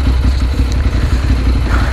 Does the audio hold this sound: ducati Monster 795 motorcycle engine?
yes